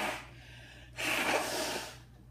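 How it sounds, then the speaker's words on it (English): A person blows their nose, a short puff of air followed by a longer, louder, breathy blast about a second later, close up with no talk. "I'm gonna blow my nose."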